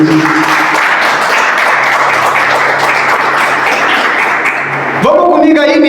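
A congregation at a Portuguese-language church service applauds in a dense, steady wash of clapping for several seconds before it gives way to tonal sound.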